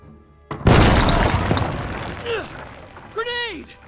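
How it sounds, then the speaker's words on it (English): A grenade goes off in Jagged Alliance 3 with a sudden heavy boom and a long rumbling decay. A voice then calls out briefly in the fading aftermath. "Grenade!"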